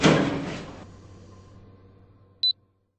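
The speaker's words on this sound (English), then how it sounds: "Doors closing." Hitachi lift doors closing in the Roblox video game: a loud rushing slide that fades over about a second, then a quiet pause and a single short high chime.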